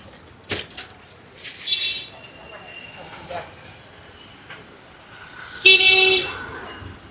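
Street noise with several short car horn toots, one louder honk near the end, and brief clatters and a voice in the background.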